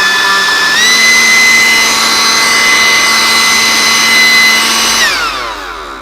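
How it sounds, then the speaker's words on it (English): Ryobi battery-powered leaf blower on turbo mode: a loud, close, steady high-pitched whining whoosh that ramps up in pitch just after starting, holds for several seconds, then winds down as the motor spins off. "here's the leaf blower. We'll go ahead and slot this into place, and we're gonna turn it on turbo mode here."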